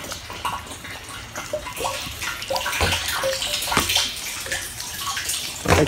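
Rainwater from a gutter splashes and gurgles continuously into a bucket, a busy irregular pouring sound with small plops and drips throughout.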